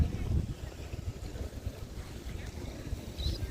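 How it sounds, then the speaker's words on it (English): Wind gusts through a garden of roses, a rough low rumble of buffeting air close to the microphone that swells and eases throughout, with faint voice in the background. "It's getting breezy."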